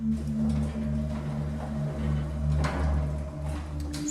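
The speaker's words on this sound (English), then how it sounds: "Doors closing." Elevator doors slide shut inside the Skyscrapersim building simulator, a soft sliding rumble sitting over a steady low machine hum that continues throughout.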